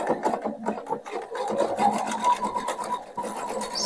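A domestic sewing machine stitching the crotch and front pieces of a pair of hipster knickers together, a steady continuous whir with slight speed changes, close and alone.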